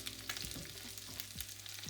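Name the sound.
frying oil heating in a saucepan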